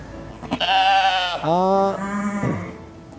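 Fullblood Dorper sheep from Australia bleat up close on a farm, two or three loud wavering calls in quick succession, one dropping into a lower drawn-out baa, with farm background noise.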